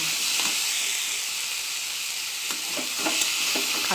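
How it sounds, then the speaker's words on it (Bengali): Green chillies, nigella seeds and onion frying in oil in a kadai give a steady close hiss and sizzle, with a few faint clinks near the end and no talk. "কড়াইয়ে তেল দিয়ে কাঁচা লঙ্কা, কালো জিরে আর একটা পেঁয়াজ দিয়ে দিয়েছি।"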